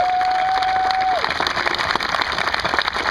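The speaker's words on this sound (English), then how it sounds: "I want to give these guys a round of applause again." An outdoor crowd at a military Family Day event on Fort Sill claps and cheers, a dense steady wash of applause with a brief whistle-like tone at the start.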